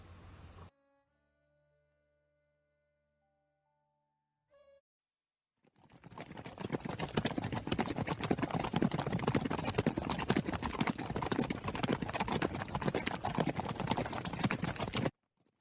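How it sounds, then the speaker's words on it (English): Galloping horse hooves for a school annual-day stage play, warriors approaching: after a short, faint musical opening, a loud, dense, continuous rush of hoofbeats runs steadily for about nine seconds. "I hear the sounds of horses and warriors."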